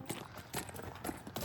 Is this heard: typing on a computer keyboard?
no